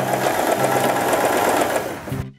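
A Janome 3016 sewing machine backstitches to finish a zipper seam, giving a close, steady, loud mechanical whir that runs without a break and then stops abruptly at the end.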